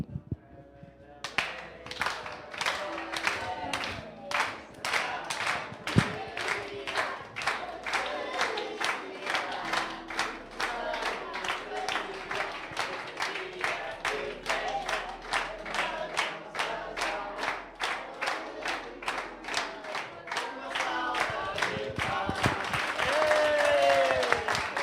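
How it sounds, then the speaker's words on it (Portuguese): A church congregation applauding for the pastor in rhythmic unison, sharp regular claps repeating steadily for a long stretch and growing slightly louder toward the end. "uma salva de palmas para o pastor"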